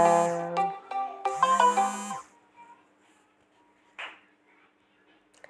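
A mobile phone ringtone plays a bright melodic tune in two loud phrases, then cuts off, followed by a brief clatter in a quiet room.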